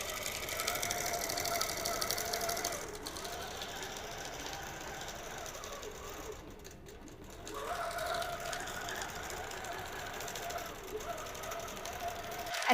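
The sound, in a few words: QCT6 Plus quilting machine stitching a design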